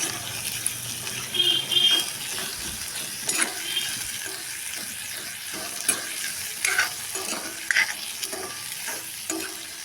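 Onion being stirred and fried in oil in a pan, soft crackling sizzle with intermittent scraping and clinking of the spatula, close and fairly quiet, no voices.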